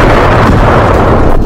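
A bomb explosion in the Russia-Ukraine war, a loud, sustained booming roar that fills the whole moment without pause.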